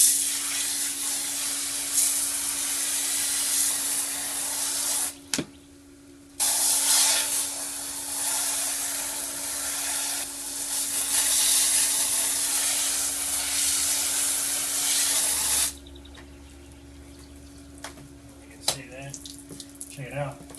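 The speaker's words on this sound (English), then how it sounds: "now so we just rinse it off with the hose, or if you've got a pressure cleaner or something like that" A hose sprays water over a greasy range hood filter in a household, a loud hissing rush that stops briefly and resumes, then gives way to quieter dripping and handling at the end.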